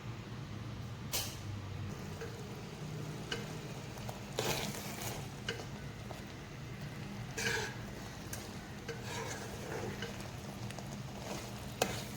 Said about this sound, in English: I'm just going to let it simmer for a bit more.